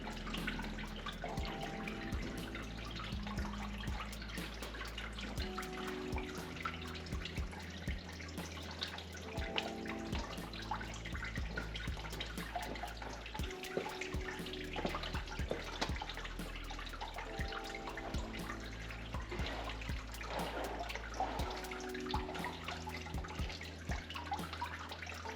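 Water drains and drips from a Toyota Celica TA22 engine during cylinder head removal, a continuous splashing trickle with irregular drops, fairly close and steady throughout, under a faint background tone.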